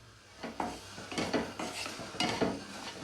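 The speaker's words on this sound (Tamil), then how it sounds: "இந்த மாவு அடி பிடிக்காமல் நல்லா கலந்துக்கிட்டே இருக்கலாம்" A spoon scrapes and clinks against a pan as wheat flour is stirred in ghee for halwa, soft irregular strokes with faint background noise.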